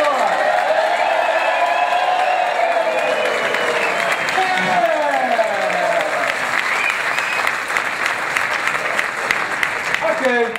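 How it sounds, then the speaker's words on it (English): A conference audience in Lisbon applauds with sustained, loud clapping throughout, a dense crowd of hands mixed with a few whoops, while a voice talks over it in the first half. "Clap for the floor."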